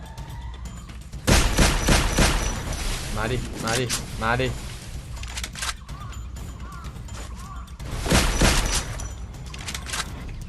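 Gunfire from the mobile battle game Free Fire crackles in dense, rapid bursts in two main volleys, loud and close, while a player talks excitedly over it.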